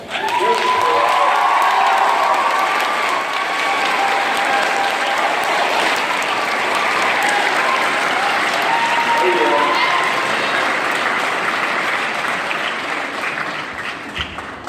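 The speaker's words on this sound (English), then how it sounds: "give them a round of applause" Sustained applause from a school graduation audience, dense and loud throughout with some cheering and crowd noise mixed in, fading slightly near the end.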